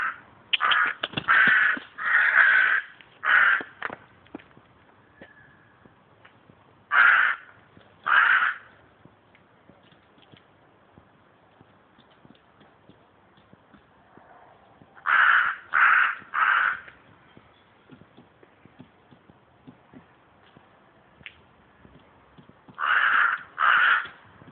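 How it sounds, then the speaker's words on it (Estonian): Crows caw in clustered bursts of two to four calls, separated by long quiet gaps, loud and fairly close, with no talking. "Vares."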